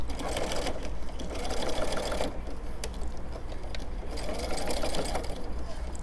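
Sewing machine running steady stitching runs through pajama fabric, a continuous mechanical whir with short pauses between bursts, close and fairly loud.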